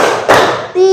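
Students clap hands in a counted rhythm exercise in a biology class, two short hand-clap bursts between children's voices and chatter, close and fairly loud.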